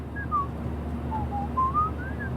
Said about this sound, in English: Do you mind not whistling?